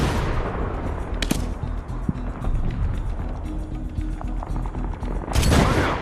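Gunfire in the Medal of Honor video game, a busy battlefield mix with sharp shots near 1.3 s, 2.1 s and a heavy blast near the end over constant rumbling combat noise.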